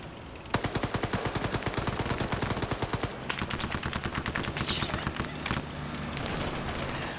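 Video game Vietnam-era battle with an M60 and AK rifles firing: a loud, rapid automatic burst with evenly spaced shots hammering for several seconds, then sparser crackling fire and a few more bursts.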